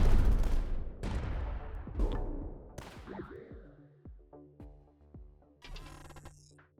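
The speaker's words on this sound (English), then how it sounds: "Sanctioned cannon, pretty cool." A sanctioned cannon in the strategy game Tower Dominion fires a series of loud, sharp booms, the first few heavy and close, followed by lighter repeated shots and chiming tones.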